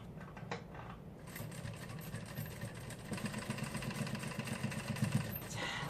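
A sewing machine stitches a 360-degree flared skirt, humming in a steady, close mechanical whir that speeds up and grows louder partway through, with a few small clicks near the start.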